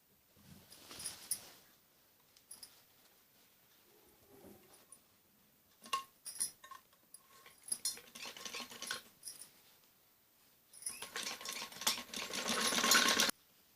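A sewing machine stitches a zipper into a padded blouse in bursts, with pauses between runs, building to a steady close whir near the end.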